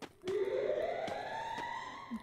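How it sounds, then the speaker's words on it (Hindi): Siren in the Free Fire battle royale video game, a single rising wail that starts abruptly and holds fairly steady, moderately loud with no talk over it. "क्या सायरन बज रहा है"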